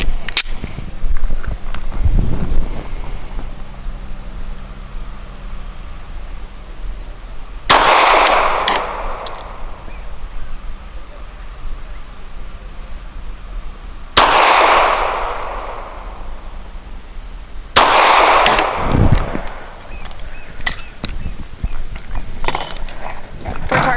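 Springfield XDe 9mm pistol firing American Eagle Suppressor 124 grain subsonic rounds outdoors, three sharp loud shots spaced several seconds apart, each with a decaying echo, plus a faint earlier pop and some handling noise between.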